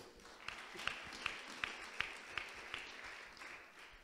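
A church congregation gives a faint, sparse acclamation of claps, with single sharp hand claps spaced roughly evenly apart over a low room murmur.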